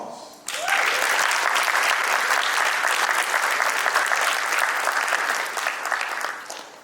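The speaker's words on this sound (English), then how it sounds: "could you give a round of applause?" An audience at a tech leadership conference session breaks into a loud, sustained round of applause that starts abruptly, holds steady for several seconds, then tapers off.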